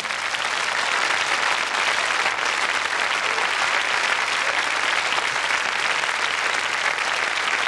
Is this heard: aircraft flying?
no